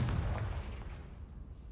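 A fiery Confringo spell explosion in the game Hogwarts Legacy, a single muffled boom that fades quickly into a low rumble.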